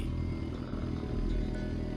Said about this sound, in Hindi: मनीष ने डर की वजह से बाइक को भगाना शुरू किया